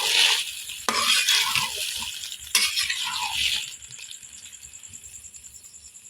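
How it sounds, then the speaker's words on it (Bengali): Malabar spinach tossed with shrimp and spices in a pan, giving soft scraping and clinking stirs with a few utensil knocks against the pan, fairly close, fading to a quieter tail. "এবার পুঁই শাকগুলো দিয়ে দিব। এবার মশলাগুলোর সাথে ভালোভাবে মিশিয়ে নিব।"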